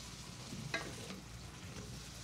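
Food simmering in a pan, a soft continuous bubbling hiss with a light scrape of stirring near the start, heard close and fairly quiet with no voices.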